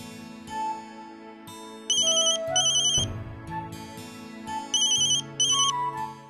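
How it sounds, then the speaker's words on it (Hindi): A phone rings while a call to dad is placed: a loud melodic ringtone repeats its bright chiming pattern in bursts over about six seconds, with no talking. "आइडिया, पापा को फोन लगाता हूँ।"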